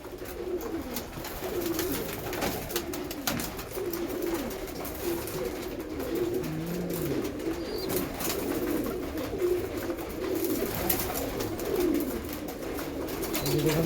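Pigeons coo in low, rolling murmurs as a flock feeds on a rainy day, with soft pecking and rustling underneath. A faint voice is heard briefly.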